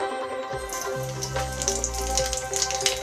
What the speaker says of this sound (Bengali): প্রথমে আমরা কালজিরে দিয়ে নেব।